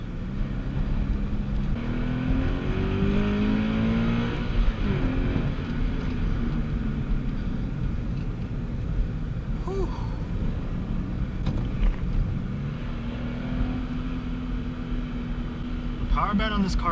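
An E85-tuned FRS sports car drives along a canyon road, its engine droning steadily with shifts in pitch as it pulls through corners, loud and continuous with a faint hint of wind.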